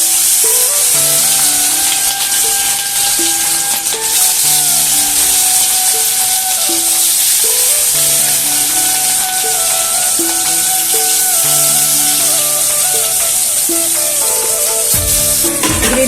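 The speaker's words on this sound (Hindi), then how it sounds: "सो मैं जल्दी से अब फिश को फ्राई करती हूँ।" Fish fries in a pan with a continuous loud sizzle and spitting hiss, accompanied by background music, with no one speaking.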